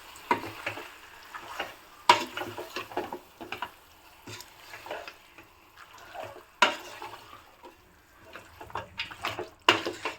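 Mutton curry being stirred in a pan, Hyderabad style, with soft scraping and clinking strokes and light sizzling, several sharper spoon knocks against the pan and no talking.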